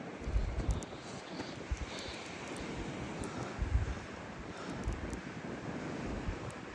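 Waterfall in the jungle along the Phoksundo trek, a steady broad roar of rushing water with gusty wind buffeting the microphone, no voices.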